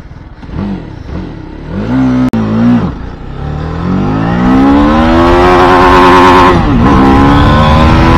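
A TVS Apache RR 310 motorcycle starts and revs, with a few short blips rising and falling before a long climb to a loud, high sustained rev that dips near the end, close and alone.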